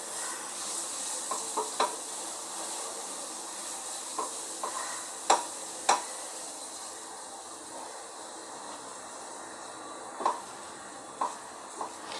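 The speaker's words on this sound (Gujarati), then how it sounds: "આ બધો મસાલો પહેલાં સાતળી દઈશું અને આ બટાકામાં એડ કરવાનો છે" Ground spices for a vada pav potato filling sizzle steadily in a hot pan, a soft continuous frying hiss with occasional light clicks of a spoon stirring, and no voices.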